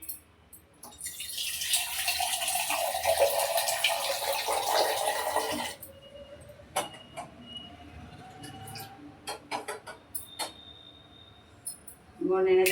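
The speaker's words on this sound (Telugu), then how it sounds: "కొంచెం లైట్గా అట్లా పోస్తున్నా వాటరు" Water is poured lightly into tea for about six seconds, a steady splashing stream near the microphone, followed by quieter clinks and handling sounds.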